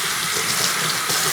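Tap water runs steadily into a sink while a cloth diaper is rinsed, a loud, close, continuous splashing rush with no pauses.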